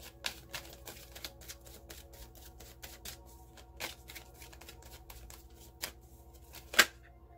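Wild Kuan Yin oracle cards are shuffled by hand in quiet, close, irregular bursts of riffling and soft slaps, with one sharper snap near the end.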